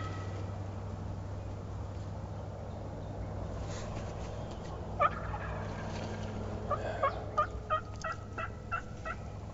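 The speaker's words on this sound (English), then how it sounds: "we got some turkeys gobbling on the other side of a big hardwood bottom" Wild turkeys gobble from across a large hardwood bottom in Missouri, with a few distant, faint gobbles that swell into a rapid run of repeated calls late in the span over steady low background noise.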